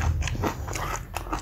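Crunchy fried chicken coated in chili padi is bitten and chewed close to the mic, with a few sharp crisp crunches followed by wetter, softer chewing sounds in an uneven rhythm.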